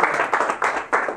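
Short spell of audience clapping at a charity golf tournament press conference, a few uneven bursts of hands close by.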